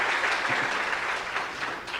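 Steady, loud applause from a large church congregation, a dense continuous patter of clapping filling the whole span with no pauses.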